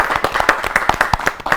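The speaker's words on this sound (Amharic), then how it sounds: "አጨብጭቡላችሁ ለአራቱ" An audience at a children's TV show anniversary event claps for four young performers. A quick, fairly even run of sharp, close hand claps with a brisk rhythm fills the brief moment.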